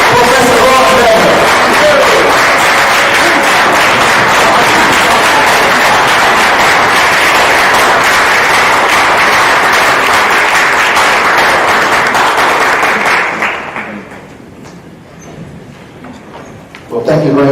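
Loud, dense audience applause for Professor Bakulembeze that fills a hall for about thirteen seconds before dropping off abruptly, leaving quiet murmuring and then a renewed swell at the end.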